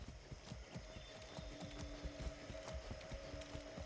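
Horse hooves clip-clop in a steady trotting rhythm in Far Cry 6, the close, regular strikes running continuously with a faint tonal background and no talking.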